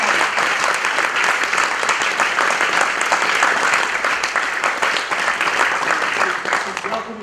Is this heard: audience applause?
yes